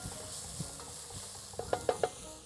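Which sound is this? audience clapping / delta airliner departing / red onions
red onions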